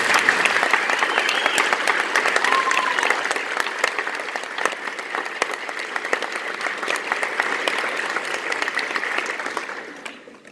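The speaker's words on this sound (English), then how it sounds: "a round of applause" An audience at a graduation ceremony claps steadily in a dense, sustained round of applause that fades out after about ten seconds.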